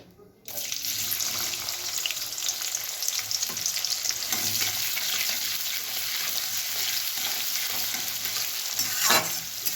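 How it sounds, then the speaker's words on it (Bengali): Steady loud sizzling of two medium chopped onions frying in oil for a bhetki fish recipe, continuous throughout with a faint clatter of stirring near the end. "পেঁয়াজটা সামান্য ভাজা হবে"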